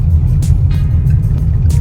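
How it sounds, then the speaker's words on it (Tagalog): A car shudders and vibrates while driving over the rough, worn surface of the old San Juan Eco Bridge in Samar. A loud, close low rumble is broken by faint repeated thumps from the road. "Sa takbo ng ating sasakyan, nagbabibrate na yung ating sasakyan."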